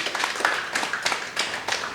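Audience at an event supporting teen mothers and girls claps in a steady, rhythmic pattern of moderate loudness, a short burst of applause with no talk over it.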